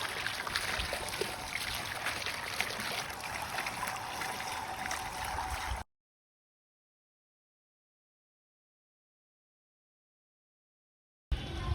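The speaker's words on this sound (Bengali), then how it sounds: "চলুন আপনাদের সামনেই আদাটা ধুয়ে দেখাই আমাদের ফাইনাল প্রোডাক্টটা কেমন হয়" Freshly harvested ginger being rinsed in water, a steady loud rush of running, splashing water for several seconds that cuts off to silence and briefly returns at the very end.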